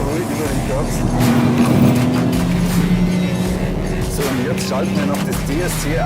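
A 2021 BMW M3 sedan or M4 coupe drives at speed on a racetrack and runs over the curbs. The engine and road noise hold steady and loud throughout, with someone talking over them.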